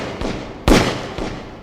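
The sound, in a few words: two revolver gunshots fired into the air, radio drama effect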